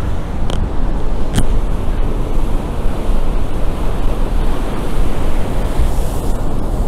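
Stormy sea surf pounds an embankment in Crimea, a dense, loud, continuous roar of crashing waves with steady wind noise buffeting the microphone throughout, no voices.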